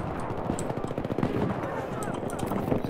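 Rapid automatic gunfire from the video game Battlefield 3, dense and continuous bursts throughout, fairly loud, with a voice speaking over parts of it.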